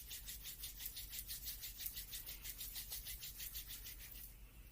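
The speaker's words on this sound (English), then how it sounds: "let's rub the palms together," Palms of the hands rubbing briskly together in a steady back-and-forth rhythm before a yoga practice, a close, soft rasping swish repeated about a dozen times over low room hum, then stopping.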